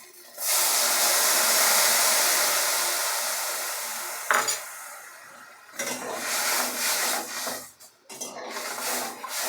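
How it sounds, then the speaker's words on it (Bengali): Tamarind water hits a hot pan of frying crab with a loud, sustained hiss and burst of steam, fading gradually, then broken by stirring clatter and renewed sizzling bursts up close. "এর মধ্যে এবার দিয়ে দেবো যে তেঁতুল বড়ার জলটা।"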